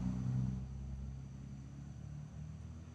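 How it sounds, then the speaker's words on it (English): A big truck passes by outdoors with a low, steady engine rumble and drone. The sound is fairly faint and distant and fades slightly over a few seconds. "Sorry, big truck."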